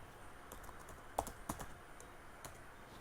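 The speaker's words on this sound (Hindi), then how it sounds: "मैं इस पर क्लिक करूँगा and I will press alt enter." Computer keyboard keys pressed for an Alt Enter shortcut in Excel: a few quiet, scattered clicks with two sharper taps close together near the middle, alone in a faint room.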